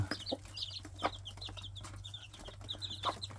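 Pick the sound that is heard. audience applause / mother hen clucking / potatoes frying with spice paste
mother hen clucking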